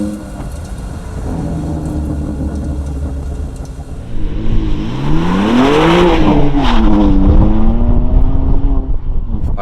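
BMW M2 Competition with a Remus exhaust: a deep engine rumble that swells into a loud rev, pitch climbing and falling, as the car passes close by outdoors.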